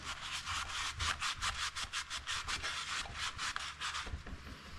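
A rag wipes degreaser off an aluminum engine crankcase in quick repeated rubbing strokes, a close, steady scratchy swishing with no voices.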